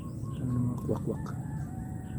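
Chickens cluck in short bursts over a steady farmyard background hum, fairly close by.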